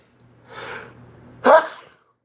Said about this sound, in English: I gotta sneeze again.